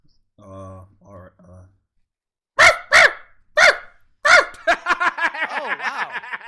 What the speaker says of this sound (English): Yeah, like a regular bark.